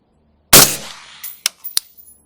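A suppressed 5.56 rifle with the gas set to position 5 fires a single loud, close shot with a short decaying tail, followed by a few sharp metallic clicks from the action.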